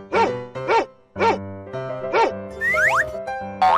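Cartoonish dog barks in a children's animal-sound sequence, four or five short bouncy yips in a quick row, mixed with springy boing effects and sweeping whistles over steady music.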